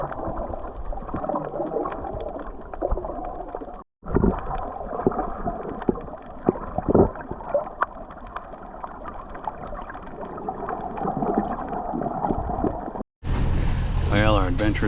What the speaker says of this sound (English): We're motoring back to the marina.